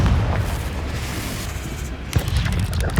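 Confringo blasting-spell explosions in Hogwarts Legacy, a dense run of loud booming bursts over noisy combat, with a sharper blast near the end.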